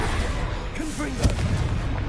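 A Confringo spell blast in the game Hogwarts Legacy goes off as a single short burst amid whooshing, whistling spell effects and steady background noise.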